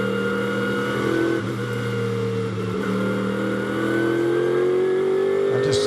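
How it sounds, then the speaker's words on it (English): Recorded on board a race car lapping the Spa circuit during the Total 24 Hours of Spa 2016 endurance race, the engine gives a loud, sustained, close drone whose pitch climbs steadily with a brief dip, and no one talks over it. "just nice to listen to the engine note, isn't it"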